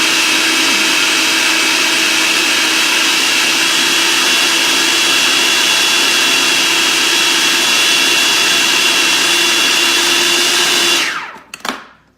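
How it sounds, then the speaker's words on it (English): A blender whirs through a plantain cracker mixture, a loud, even high-speed motor whine held for about eleven seconds before spinning down, followed by a couple of short bumps. "So let's just blend this up."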